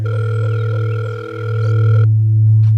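A steady electronic phone tone on an outgoing call that nobody answers. It holds evenly for about two seconds, then stops while a low hum carries on.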